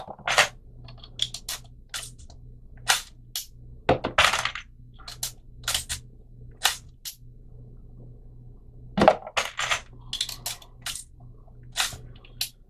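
A hand reloading tool seats primers into cartridge cases, giving a string of sharp, dry clicks and thunks spaced a second or so apart, close and distinct over a quiet background.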